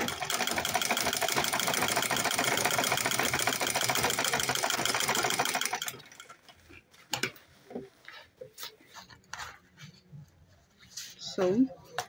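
A sewing machine top stitching a fashion bag runs steadily for about six seconds with a fast, even mechanical ticking, then stops, leaving quieter scattered handling noises.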